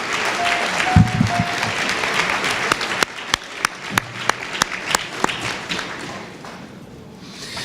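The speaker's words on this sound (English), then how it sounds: "And one more round of applause for the Knights of Zion representing Belmont Street, AME" Applause from a crowd at a Martin Luther King Jr. breakfast, honoring a performing group; dense clapping fills the room, with a few sharp louder claps standing out near the end as it thins.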